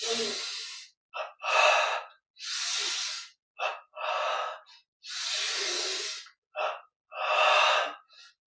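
A series of deep, forceful breaths during a yoga breathing exercise, several long loud inhalations and exhalations alternating with short sharp sniffs, close to the mic with silent pauses between.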